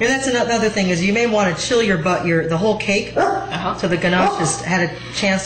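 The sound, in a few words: dog barking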